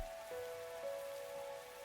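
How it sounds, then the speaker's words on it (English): Rain pours down on a rooftop in a video game, a steady, even patter with a faint tonal hum running underneath. "Oh, it's raining too. It's really coming down hard."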